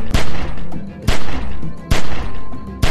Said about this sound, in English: Remember, don't stop shooting.